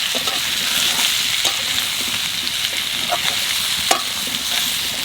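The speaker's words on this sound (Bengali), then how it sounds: "ওল একটু ভাজা ভাজা হয়ে গেছে" Elephant foot yam seasoned with turmeric frying in a pan, with a continuous close sizzle broken by repeated scraping stirs and a few sharper clacks of the spoon.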